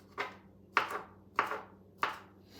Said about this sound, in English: I'm chopping up the cooked shrimp.